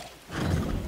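A horse in the video game Far Cry 6 whinnies and stamps, a faint start giving way to a louder rumble of hooves and neighing close by.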